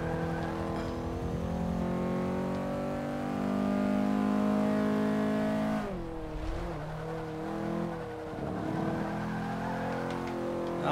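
A D-class race car's engine in the Forza 5 racing game holds a steady high drone for about six seconds, then drops abruptly and revs back up through gear changes. The sound is loud and continuous with no talk.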